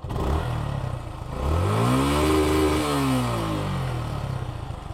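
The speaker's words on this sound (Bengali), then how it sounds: "এই হলো বাইকের ইঞ্জিনের সাউন্ড।" A Suzuki Gixxer motorcycle engine runs close up at a steady idle. It is revved once, rising and falling, then settles back with a light mechanical tappet ticking underneath and no talking.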